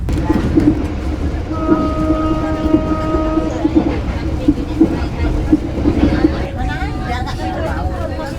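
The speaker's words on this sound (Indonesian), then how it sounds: "kereta api Putri Deli diberangkatkan dari stasiun Lidah Tanah" Putri Deli passenger train hauled by a BB 203 locomotive departing a station, a steady rolling rumble with rhythmic clacks over the rails, loud and close, and background chatter of people on board throughout.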